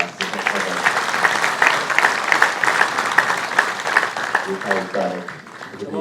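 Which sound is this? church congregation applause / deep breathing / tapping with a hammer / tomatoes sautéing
church congregation applause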